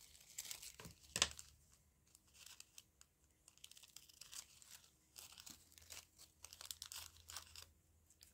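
A paper strip is folded back by hand while making a craft tag topper. One sharp crinkle comes early, followed by quiet, scattered rustling and handling close to the microphone.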